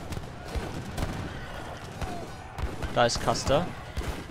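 Shots crack repeatedly through a strategy-game battle against Custer, mixed with horse whinnies and the general din of fighting, while someone speaks briefly over the clamor.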